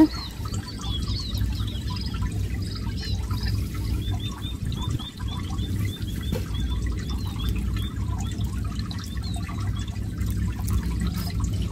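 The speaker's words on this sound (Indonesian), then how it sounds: "Sudah kita tanam, selanjutnya kita siram secara pelan-pelan ya." Water is poured slowly, trickling gently and continuously onto the soil of freshly planted vegetables in a rooftop garden, with soft dripping and splashing, while birds chirp faintly in the background.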